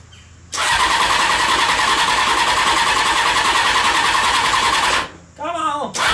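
A Honda CBR 600 reverse trike with a bad head gasket is cranked with the choke on, a loud continuous starter grind lasting several seconds before it stops and briefly cranks again.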